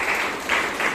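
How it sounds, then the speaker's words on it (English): Applause from the audience at a Toastmasters club meeting in Bangalore: a brief, dense burst of many hands clapping at an even level, with no voices. "Let's give them a round of applause."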